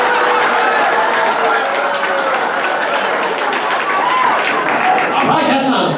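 A workshop audience at a comedy class breaks into loud, sustained applause mixed with cheering, a dense wash of clapping that holds steady throughout.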